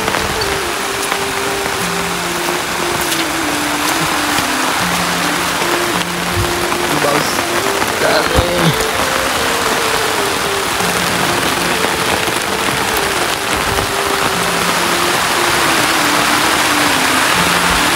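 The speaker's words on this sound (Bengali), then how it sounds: "যে বৃষ্টি শুরু হয়েছে খাইছে রে।" Heavy rain pours down in Tripura in a loud, continuous dense hiss with spatters close by, while a steady tonal hum sits underneath.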